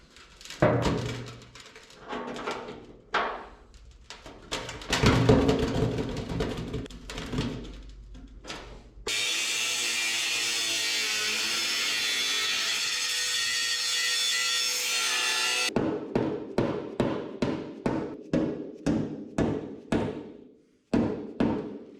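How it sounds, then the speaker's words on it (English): A new fuel tank for a 1980 Chevrolet 4x4 is cut, first with irregular scraping and rasping strokes, then a loud continuous grinding cut, followed by a quick series of rhythmic sawing strokes close by, no voices. "Cutting on a brand new expensive tank, no pressure."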